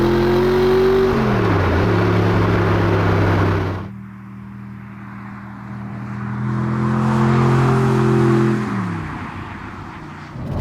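An Audi R8 V8 engine revs up and settles, its steady mechanical drone rising and falling in pitch before easing off and then climbing again, loud and close, without any speech.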